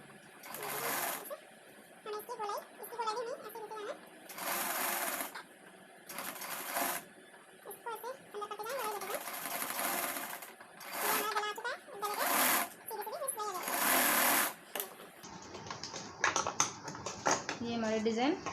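A sewing machine stitches piping on a designer blouse in repeated bursts of rapid mechanical whirring, each lasting a second or two with short pauses between them, while someone talks in between.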